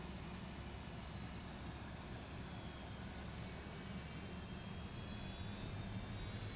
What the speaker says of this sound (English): I might go ahead and just power down engine number 1